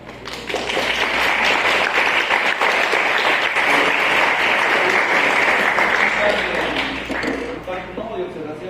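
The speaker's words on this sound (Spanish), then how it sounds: "¿Alguna otra pregunta? Un aplauso." A class of students applauds at the end of a histology lecture on epithelial tissue, with loud, sustained clapping that fills most of the span and then tapers off, leaving scattered murmuring.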